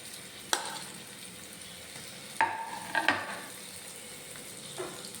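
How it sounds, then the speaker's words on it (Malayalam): Ginger, garlic and spice powders fry in hot oil in a pan for a pickle, giving a steady close sizzle broken by about five sharp spoon-stirring scrapes, with no talking. "ഇത്രയും ചേർത്തത് നന്നായിട്ടൊന്ന് മൂപ്പിച്ചെടുക്കാം"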